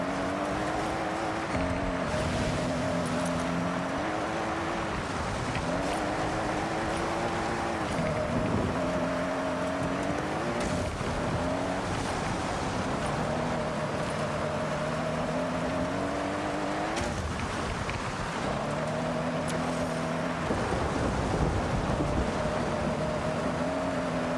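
Toyota GR GT driven rally-style in the Forza Horizon 6 racing game, a continuous engine drone whose pitch rises and falls repeatedly with gear changes and revving, loud and steady with no talk.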